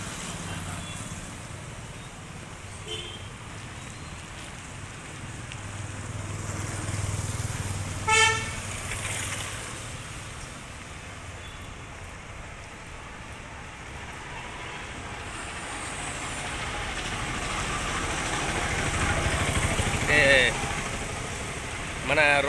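Busy road traffic hums steadily with engines rumbling, while a couple of short car horn toots ring out, one near the middle and another late, over a constant street din.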